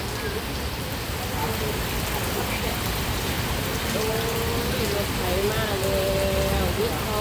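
Steady rain pours down, a dense hiss of drops on surfaces, with faint voices talking in the background.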